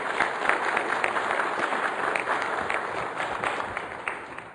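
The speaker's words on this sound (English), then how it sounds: "Let's give him a round of applause for presenting." Conference audience applauding a presenter, a dense, steady wash of many hands clapping at once, loud and sustained the whole way through without a break.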